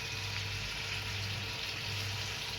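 Broiler chicken pieces cooking in a pan for a stew, giving a steady, soft sizzle with faint watery crackle that runs unbroken at low level throughout.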